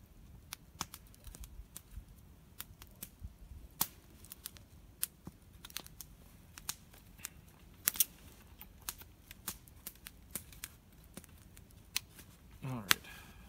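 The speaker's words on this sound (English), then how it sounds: "So there's a quick, kind of dirty square notch out of some pretty hard elm." Condor camp knife carving a square notch in hard elm, a scattered series of sharp clicks and short scraping cuts, close and moderately quiet, with a brief voice near the end.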